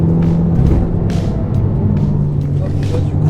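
A Renault Mégane 4 RS Trophy-R accelerating hard on a race circuit gives a steady, loud engine drone with rising gear pulls, while a voice talks over it throughout.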